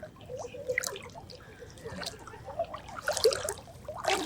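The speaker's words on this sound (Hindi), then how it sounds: "पानी टपे छी।" Water drips steadily in a noisy outdoor setting, a run of small irregular plinks and splashes close by, mixed with background clatter and faint distant voices.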